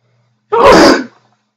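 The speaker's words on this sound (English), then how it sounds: "I had to sneeze like I did in my other kind of videos" A single loud, close sneeze bursts out abruptly and fades within about half a second, with quiet before and after.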